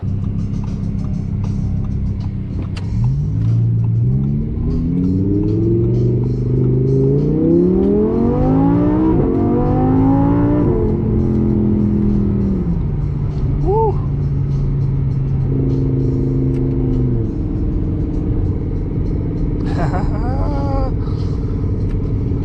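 An Audi R8 sports car engine climbs loudly through the revs, shifts, then drops back and surges again, heard from inside the moving car with speech underneath.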